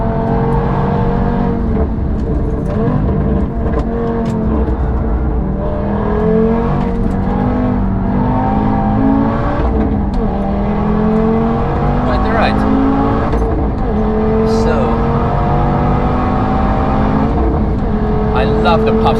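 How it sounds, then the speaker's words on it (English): Audi TT RS or C63 S AMG wagon engine on the Nürburgring, revving steadily with harmonic tones rising and falling, faint crackles and pops over a constant loud drone, with speech in the car. "Love the pops and bangs that exhaust is making."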